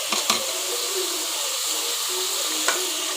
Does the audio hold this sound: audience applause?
no